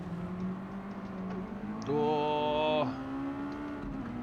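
Race car engines in Gran Turismo 7 at Tsukuba, droning steadily and rising in pitch as one car overtakes, with a louder, higher whine surging for about a second mid-clip before fading back.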